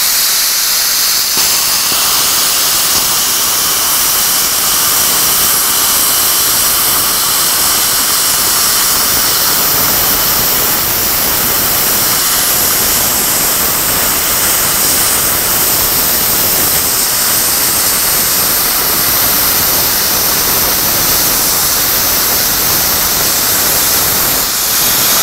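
An Everlast PowerPlasma 62i plasma cutter running at 60 amps slices through half-inch cold roll steel plate, giving a loud, steady roaring hiss that holds for the whole stretch with no talk over it.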